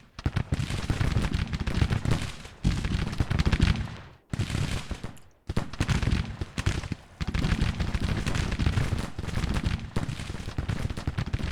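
Massed musket and artillery fire from the Civil War strategy game Grand Tactician crackles in dense, continuous volleys. There are only brief lulls, and the noise stays loud and busy nearly the whole time.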